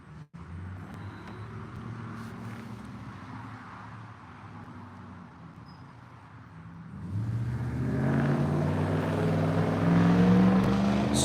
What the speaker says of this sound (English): Listen to all these exhausts out here,